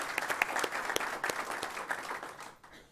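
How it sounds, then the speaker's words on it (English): A scattered round of applause rises from the audience at a county school board meeting. Individual claps are distinct and close at first, then the sound thins and fades out over about three seconds. "can we give Jamie a round of applause?"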